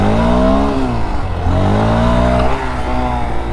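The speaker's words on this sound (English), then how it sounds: "Although it sounded pretty good for a 2-cylinder, way too loud to be doing wheelies in like a residential area like this." A Yamaha FZ two-cylinder motorcycle with an Akrapovic exhaust revs loudly and close by in a residential area, its engine note climbing and dropping in repeated throttle blips with no talk.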